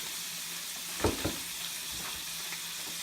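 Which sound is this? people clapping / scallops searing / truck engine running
scallops searing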